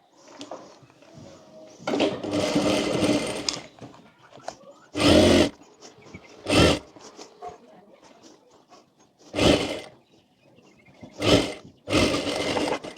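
Sewing machine stitching the centre seam of a drape skirt, several short bursts of rapid stitching separated by pauses, with handling noises and a voice talking between bursts.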